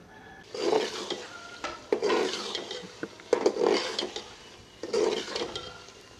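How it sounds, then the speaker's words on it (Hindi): Brinjal bharta, a mashed eggplant dish, is stir-fried in a pan: a spoon scrapes and stirs in repeated strokes over a soft sizzle, close and fairly loud, with no talking. "छः 7 मिनट के लिए भून लेंगे इसे।"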